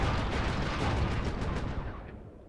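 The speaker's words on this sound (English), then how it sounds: "we got some pretty heavy-duty fireworks here if they're destroying people and spikes" Heavy-duty fireworks blasting in the video game Sly 3, a dense, continuous roar of overlapping booms and crackles that stays loud before fading slightly toward the end, with no talk over it.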